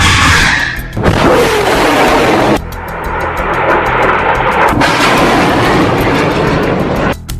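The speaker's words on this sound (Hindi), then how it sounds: "हमास एक के बाद एक 10 रॉकेट फायर करता है" Rockets fired one after another in a Hamas barrage, loud roaring bursts broken by sharp cutoffs, each launch a dense wash of noise following the last.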